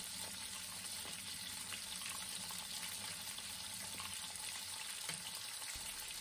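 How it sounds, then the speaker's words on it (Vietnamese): Beef steak fries in butter in a pan, cooked through for about three minutes per side, giving a dense, continuous sizzle and crackle that stays even and close throughout with no talking. "Mình làm ở mức độ chín hẳn thì mỗi mặt mình rán độ khoảng 3 phút"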